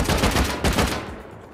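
Rapid gunfire in the survival game Rust during a base raid, a burst of loud close shots in quick succession that thins out toward the end.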